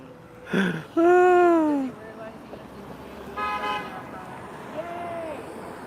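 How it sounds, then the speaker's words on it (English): Outside a Starbucks, car horns honk several times: a short toot, then a longer sustained blast, and later a couple of fainter honks against background street noise. "I heard cars honking their horns"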